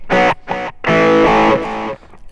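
Electric guitar chords with a delay echo effect and distortion ring out in short bursts, two quick stabs then a longer sustained chord that trails off, loud and close.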